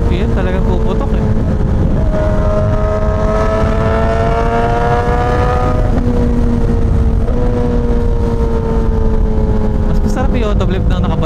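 A Suzuki GSX-S1000 motorcycle engine revs hard at high RPM, a loud, close, continuous whine whose pitch climbs and drops several times, with a voice faintly beneath.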